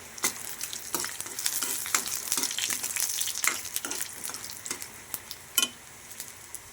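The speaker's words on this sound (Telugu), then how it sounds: "2 స్పూన్ల ధనియాలు, 1 స్పూన్ జీలకర్ర వేపుకుందామండి." Two spoons of coriander seeds and a spoon of cumin dry-roast in a pan, crackling and popping in quick irregular bursts over a constant sizzling hiss, heard up close with no talking.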